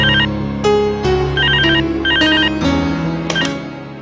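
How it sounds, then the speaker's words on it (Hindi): A telephone rings with a bright electronic ringtone, a repeating melodic trill in short bursts. It is loud and close, with no talk over it. "माधव अंकल का फोन"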